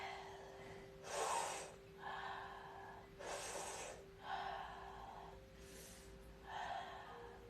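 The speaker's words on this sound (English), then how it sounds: "and breathe." Slow, deep breathing while holding a yoga squat, alternating long inhales and exhales, close and quiet, about six breaths over a faint steady hum.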